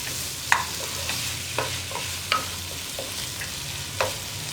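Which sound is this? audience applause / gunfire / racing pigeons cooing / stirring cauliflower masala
stirring cauliflower masala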